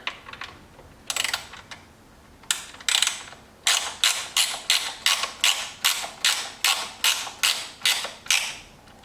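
Fasteners on a C8 Corvette Z06 engine cover tightened with a ratchet: short bursts of clicking, then a steady run of about a dozen evenly spaced ratcheting strokes, close and crisp.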